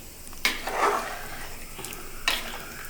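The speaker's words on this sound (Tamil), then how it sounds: "இப்படி சிக்கனுமே அரைச்ச மசாலையும் சேர்ந்து கலக்குங்க" Country chicken and ground masala are stirred in a pot for a Kongu-style gravy, giving soft, quiet scrapes and wet shuffling with two short clinks of the utensil against the pot.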